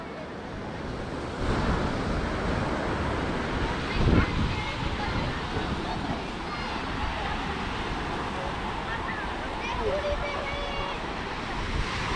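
Ocean waves wash at a beach as a steady broadband rush with wind buffeting the microphone, and faint voices appear now and then.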